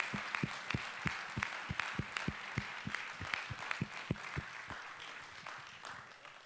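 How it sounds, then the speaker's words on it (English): A small audience at a quick pitch competition claps in a sparse, faint round of applause. Distinct individual claps ring out fairly evenly and thin out toward the end. "So let's have a big round of applause for them."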